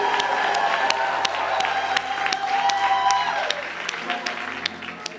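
A church congregation applauds and cheers after singing a gospel song, with a thick spread of clapping, scattered whoops and sustained sung or organ tones beneath that fade toward the end.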